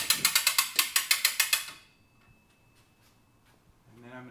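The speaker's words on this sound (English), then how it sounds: "So I'm ready to start cranking." A hand crank on a Hoist A Cart hoist lifting a Jeep Wrangler top ratchets in a fast, even run of about a dozen loud clicks, then stops; quieter handling noise and a brief voice follow.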